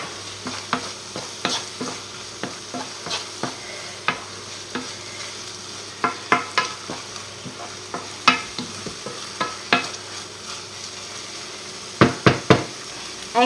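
A spoon stirs pepper, herbs and cheese in a sizzling pan, making repeated irregular scrapes and knocks over a constant soft frying hiss, with a few louder clacks near the end.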